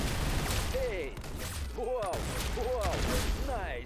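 Rapid bursts of gunfire in the Roblox game Arsenal crackle close and loud in quick repeated volleys, with synthetic whooshing sweeps between shots, heard alone.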